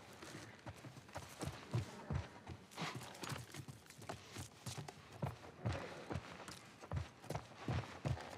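Horse hooves clip-clopping in the video game The Last of Us Part I, a steady walking rhythm of distinct thuds repeating throughout, close and clear, with no talk over them.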